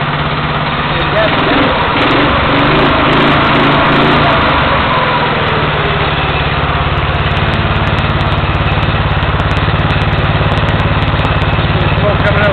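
A small engine on a green machine runs loud and close, a steady buzzing drone that holds throughout, with the motor in need of a rebuild.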